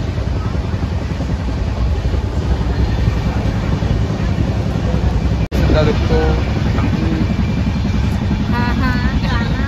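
Steady low rumble and rattle of a moving train carriage bound for Haridwar, continuous throughout, with faint voices briefly audible in the background.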